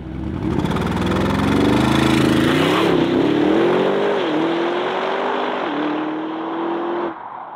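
An Audi RSQ8 SUV rated at 780 hp accelerates hard to 100 km/h, its engine note climbing loudly through rising pitch with brief dips at gear changes, then cutting off near the end.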